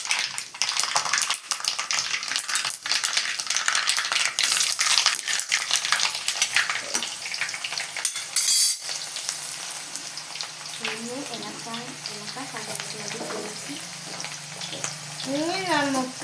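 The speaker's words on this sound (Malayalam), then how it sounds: "നമുക്ക് കടുക് ഇട്ട് കൊടുക്കാം. ഇനി നമുക്ക് ഉള്ളി ഇട്ട് കൊടുക്കാം." Mustard seeds and onions frying in hot oil while being stirred, with a dense, continuous sizzle and crackle, scraping and clinking, and a voice speaking over it toward the end.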